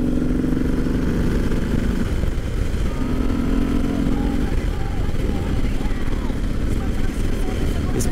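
Harley-Davidson Sport Glide motorcycle engine cruising on the highway in sixth gear around 100 km/h, a steady low rumble blended with heavy wind roar, heard close and continuous, with someone talking over it.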